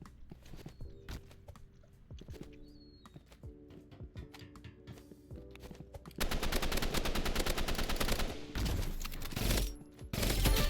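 Gunfire in the shooter game Rivals: scattered single shots and short bursts at first, then sustained loud rapid automatic fire with brief pauses, mixed with footstep-like clatter and no talking.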